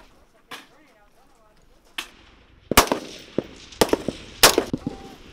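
M4 rifles fire during group and zero practice on an outdoor military training range, with sharp single cracks spaced irregularly, some loud and close and others fainter, each trailing into a short echo.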